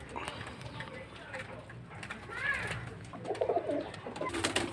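Racing pigeon from a breeding pair gives soft, low cooing close by, with irregular bird calls and light shuffling noises rising toward the end.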